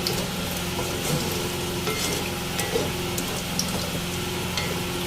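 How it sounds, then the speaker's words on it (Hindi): Yogurt is stirred into a bottle gourd curry in a hot pan, giving a continuous close sizzle with repeated scraping and clinking from the spoon against the pan, with no voices. "बस इसको हमें दही को अच्छी तरह से इसके अंदर मिक्स कर देना है।"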